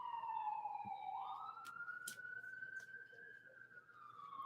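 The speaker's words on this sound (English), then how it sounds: "You hear that ambulance?" Ambulance siren passing at a distance, a faint rising and falling wail that sweeps past over quiet background hum.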